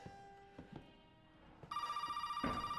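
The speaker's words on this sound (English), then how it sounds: "let's see if this phone rings again" Telephone ringing inside the Resident Evil 7 video game: a steady electronic ring tone starts partway through and repeats in quick pulses, clear and fairly loud over faint background game sounds.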